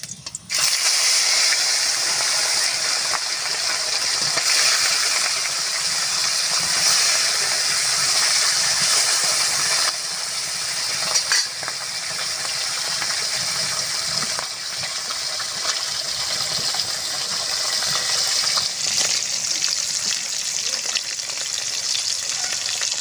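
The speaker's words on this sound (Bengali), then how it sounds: "তেলটা সুন্দরভাবে গরম হয়ে গেছে আমি মাছগুলো দিয়ে দেবো" Fish and fish roe fry in hot mustard oil in a wok, with a loud, continuous close-up sizzle and bubbling spatter that surges now and then as pieces shift. No voices are heard.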